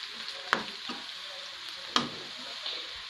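Food sizzling steadily in a frying pan with a low continuous hiss, broken by two sharp stirring scrapes; no one talks.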